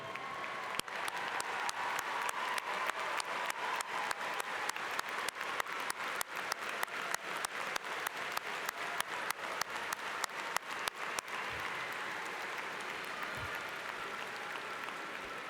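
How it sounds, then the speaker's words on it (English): An audience at a University of Northern Iowa graduation ceremony in May 2023 applauds steadily, a dense, sustained clatter of many hands clapping that continues evenly throughout before tapering slightly near the end. "I ask all UNI alumni in the audience to please stand and to applaud and welcome the newest members to the UNI alumni family."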